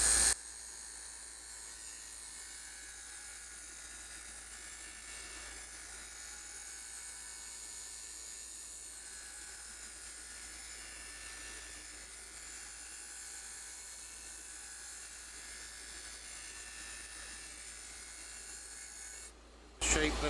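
Wood spinning on a lathe as a small skew chisel cuts a chess bishop, giving a steady, continuous whirring scrape that holds for the whole stretch, close and even, with no talk.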